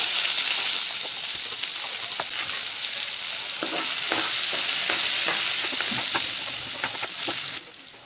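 Onions fry with cumin in mustard oil in a hot pan for an Assam-style catla fish curry, a loud bright sizzle with spatula strokes scraping through it, close up, cutting off near the end.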